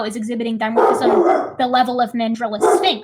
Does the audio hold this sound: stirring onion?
no